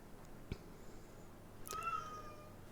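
A female cat in heat gives a drawn-out, wavering meow near the end, preceded by a couple of faint clicks over a quiet low hum, moderately close, no talk.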